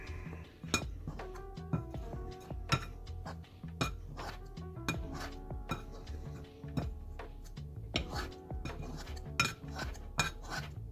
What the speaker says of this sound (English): now we cut the butter in until it is crumbly